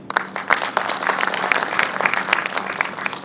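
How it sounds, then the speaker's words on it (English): An audience at the inaugural session of the Global Tech Summit Goa 2024 claps steadily throughout, a dense, fairly close patter of many hands with no voices rising above it. "a big thank you to the 20 people in the audience that are still clapping"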